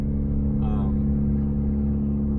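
Interior of a turbocharged Toyota Corolla on the move, a loud, steady low engine drone with a brief higher whine near the start.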